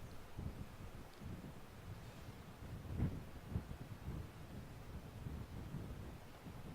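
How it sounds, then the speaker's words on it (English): Strong wind gusting across an open cricket field during an afternoon first-class match, a steady broadband rush with buffeting microphone noise and a louder gust near the middle. "It's a strong wind blowing across the field."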